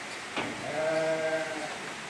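A female sheep gives a single drawn-out, wavering bleat close by, about a second long, over a steady background hiss of a farm pen.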